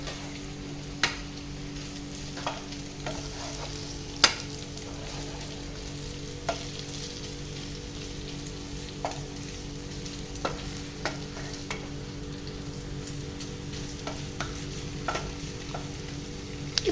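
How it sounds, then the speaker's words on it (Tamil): Chicken fries in a pan with a steady, quiet sizzle throughout, broken by occasional sharp clicks and taps of a utensil against the pan. "நல்லா ஃப்ரை ஆகணும்"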